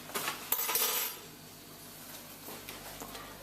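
A teaspoon of whole spices tipped into a big empty saucepan, making a brief metallic rattling clatter of small hard pieces at the start, followed by near silence.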